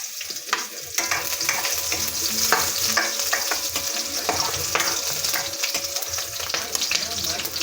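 Garlic and onion sautéing in a hot pan for stir-fried mussels with moringa leaves, heard as a steady close sizzle with repeated scraping stirs and small pops.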